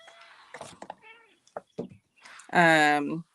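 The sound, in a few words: cat meowing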